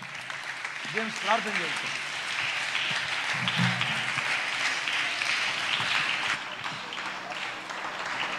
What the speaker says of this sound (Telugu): అందరం చప్పట్లు కొడుతూ ప్రభు వారికి స్తోత్రాలు చెప్దాం